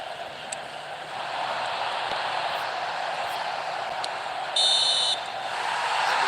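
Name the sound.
referee whistle for half-time in eFootball video game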